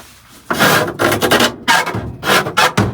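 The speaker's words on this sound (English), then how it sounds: "All that noise is just scraping the floor." The clutch pedal of an old Studebaker truck resting in a field scrapes against the floor in loud, close, rough rasping strokes, five or six bursts with brief gaps between them.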